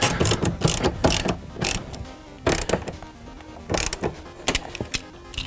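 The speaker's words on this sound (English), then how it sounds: "The other ratchet. And we're ready to do this up nice and taut." A ratchet strap is cranked tight while race seats are being installed, giving bursts of loud, close mechanical clicking and ratcheting in uneven groups, with no talking.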